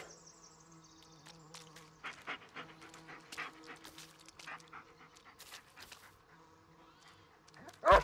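A dog in the woods of the video game Blair Witch pants steadily and quickly up close, its quiet breathing broken by a few faint whimpers and ending in a sudden louder burst.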